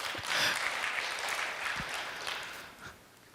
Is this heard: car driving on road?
no